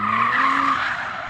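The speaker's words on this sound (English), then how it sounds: "You know that you can bung this thing into a corner and apply the throttle and it'll slide out on you." Audi RS4 four-wheel-drive car sliding out in a corner, with a loud, sustained tire squeal wavering in pitch as it skids, close and without speech.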